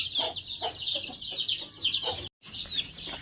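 Chickens cluck and chatter busily while being given feed mixed with medicine for coryza, close and fairly loud, with overlapping short calls repeating throughout and a brief cut in the middle.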